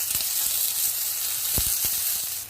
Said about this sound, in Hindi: ऑयल गर्म हो गया, अब हम बैंगन के स्लाइसिस को फ्राई कर लेते हैं।